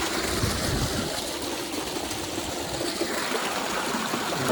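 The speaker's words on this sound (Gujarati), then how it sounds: "પાણી ભરાઈ રહ્યું છે જો" Water pours through an opened valve into a small water tank, a steady rushing, gurgling flow that holds an even volume throughout, with no talking.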